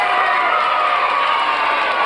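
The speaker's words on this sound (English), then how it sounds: "Let's clap for him really loud and go, yay!" A dense crowd of children cheering and shouting together, loud and sustained, with clapping blended into the roar.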